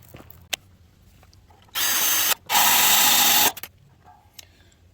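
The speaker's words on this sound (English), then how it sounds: "Not a very sharp drill bit." Two bursts of a power drill with a dull bit boring a hole, the first short, the second longer and rougher, separated by a brief pause amid quiet clicks.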